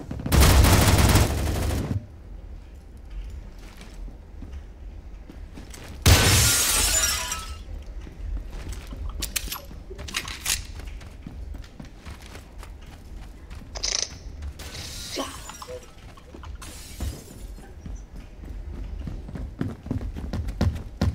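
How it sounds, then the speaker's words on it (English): Glass shatters in Roblox Phantom Forces: one loud crash at the very start and another a few seconds later, with scattered sharp gunfire-like cracks and clicks from the game between them. "Breaking the glass is so satisfying."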